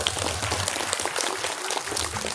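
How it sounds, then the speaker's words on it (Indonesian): Audience applause at an Islamic preaching gathering, dense continuous clapping filling the whole stretch, steady and fairly loud with no voices standing out. "Tepuk tangan semuanya"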